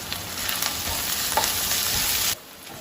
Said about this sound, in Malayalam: ഇതെല്ലാം നന്നായിട്ട് വഴഞ്ഞ് വന്നിട്ടുണ്ട്.